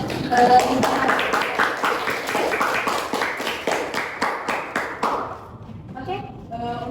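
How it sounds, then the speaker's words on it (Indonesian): A small studio audience gives a short round of applause for student guests on a school podcast, with rhythmic claps fading out. A voice speaks under the clapping and briefly after it. "Beri aplaus dong untuk"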